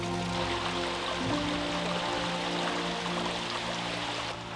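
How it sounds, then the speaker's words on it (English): A small brook flows through a forest valley, giving a soft, continuous trickling and burbling rush of water, faint and steady with no voices. "Follow this small brook as it cuts a small valley through the forest"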